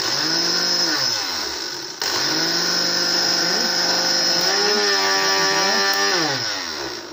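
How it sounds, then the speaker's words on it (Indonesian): A Miyako electric meat blender runs steadily and loudly throughout, a dense motor whine whose pitch dips and rises a few times as the load shifts, with no talking. "Kita coba untuk yang blender daging seperti ini."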